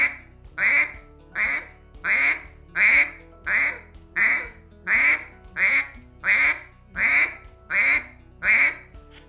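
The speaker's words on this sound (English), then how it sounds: "We're going to keep them interested with the softer quack." A duck call is blown in soft, muffled quacks, about a dozen single notes in an even, unhurried rhythm. They sound close and clear, with brief silences between them.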